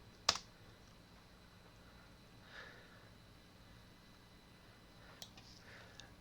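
Sparse computer keyboard typing, a sharp key click at the start and a few faint taps later, very quiet against a soft room hiss.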